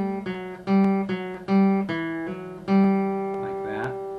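The second line of the fiddle tune Haste to the Wedding is played on a fretted string instrument as a short, lively run of plucked notes with ringing sustain, close and clear with no talk.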